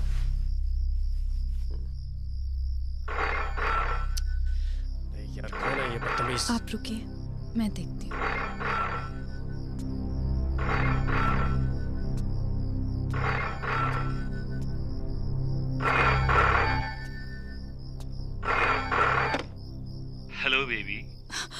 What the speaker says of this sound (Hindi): बार बार ब्लैंक कॉल दे रहा है।